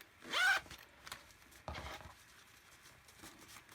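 A zipper on a sewn vinyl pouch is pulled in a couple of short, close zips, with quiet handling sounds between them.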